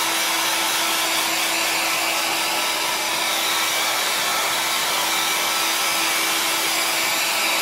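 A hair dryer blowing hot air to dry paint on an IKEA tray, a loud, steady whooshing roar with a constant whine that lasts the whole stretch, with no talking.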